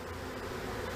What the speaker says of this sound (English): the bees are swarming